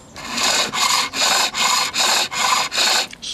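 A skew chisel cuts wood on a lathe, scoring grooves and shaping V cuts for a bead: seven steady, evenly spaced rasping passes, close and loud, with no voices.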